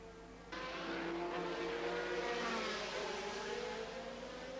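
Formula 3000 race cars at Pau in 1987 scream past on the street circuit, high-pitched engine wail rising suddenly and holding loud before slowly fading, with no talking.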